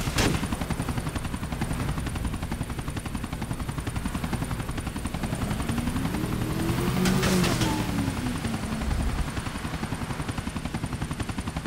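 A GTA IV video game helicopter drones steadily with a thrumming rotor, joined by a burst of rapid gunfire near the middle and a sweeping whoosh as something passes.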